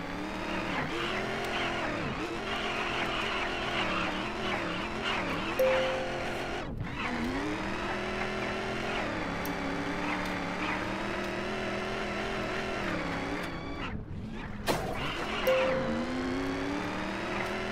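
Racing car engines in the indie game Gazolinas, a continuous revving whine rising and falling with gear changes, briefly dropping out twice, with occasional tire squeal.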